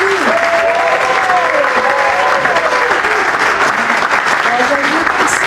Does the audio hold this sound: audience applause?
yes